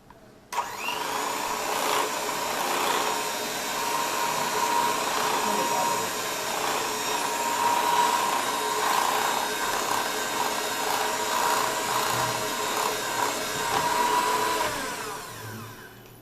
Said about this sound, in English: now we're going to whisk this together once again